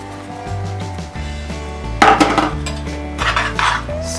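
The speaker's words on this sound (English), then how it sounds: "stir well without lumps." Milk powder and milk being stirred in a pan for peda, with close metallic scraping and clinking of a utensil against the pan, louder bursts in the second half, over faint background tones.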